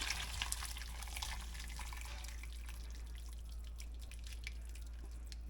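Leftover Thanksgiving turkey soup stock is poured from a pot through a strainer, a soft continuous trickle and dripping over a low steady hum, no voices.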